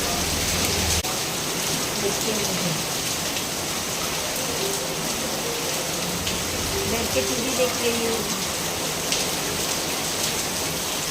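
Heavy rain pours down steadily in a dense hiss on surfaces nearby, with someone talking briefly over the constant downpour.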